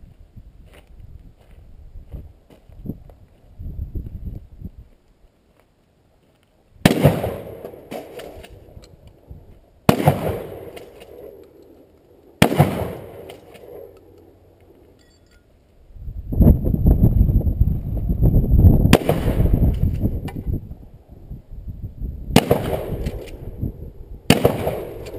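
Sharp, loud explosive blasts go off outdoors, about six separate booms spaced a few seconds apart, each ringing out with a rumbling tail and echo across open ground, with quieter handling sounds between them.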